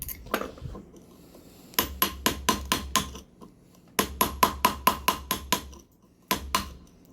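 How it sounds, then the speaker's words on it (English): A hammer drives a chisel to engrave numbers into a stone paver for a disc golf tee pad. Sharp, ringing metallic strikes come close up in three quick, evenly spaced runs of about five or six blows each, with short pauses between runs. "I'm going to have this part of the chisel follow down the groove along to that bottom right there"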